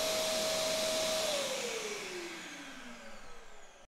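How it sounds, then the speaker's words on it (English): Vacuum cleaner running near and loud at a constant pitch, then switched off so its motor whine slides steadily downward as it spins down, fading over a few seconds before stopping abruptly. "we can also measure the initial peak after switching on the vacuum cleaner"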